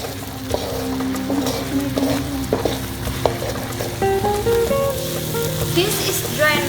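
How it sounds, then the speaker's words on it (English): A pan of food sizzles steadily as it is sautéed, close and moderately loud, with scraping and stirring knocks running through it and no talking. "We saute it"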